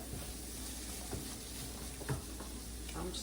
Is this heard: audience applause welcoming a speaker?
no